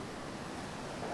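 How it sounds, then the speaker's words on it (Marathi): Sea waves at Devbag beach in Konkan give a brief, steady rush of surf, a soft continuous wash of noise, distant and without voices. "समुद्र बघा"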